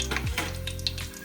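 Whole spices hit hot oil for chicken biryani, a short, close burst of crackling sizzle with a low steady hum underneath and no voices.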